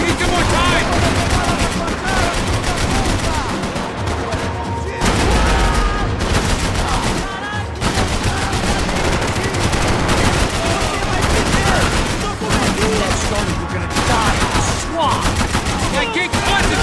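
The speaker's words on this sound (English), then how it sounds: "I can't concentrate with bullets whizzing past my head!" Nonstop gunfire from the Max Payne 3 video game: dense, loud bursts and rattling shots that form a thick wall of noise, with voices mixed into the chaos.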